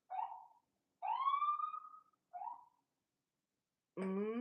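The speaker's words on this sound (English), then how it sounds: "when they do the little siren like that" Short whooping police car siren bursts sound in quick, separated pulses, the last one deeper and harsher, with silence between each.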